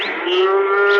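A single loud, sustained moo from a dairy cow due for milking on a windy farm, close and steady, with a slight rise at the end.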